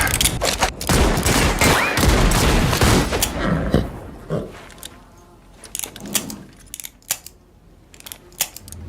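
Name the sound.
gunfire in Lucky Luke series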